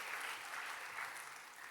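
A church congregation applauding, a dense steady roar of clapping hands filling the room, fairly faint, with no distinct voices over it.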